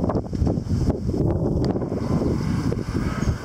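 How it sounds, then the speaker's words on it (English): Strong, erratic storm wind gusts buffet an outdoor microphone with loud, continuous roaring and rumbling that swells and dips unevenly, close and dominating, with no voices. "Oh, it's one huge gust."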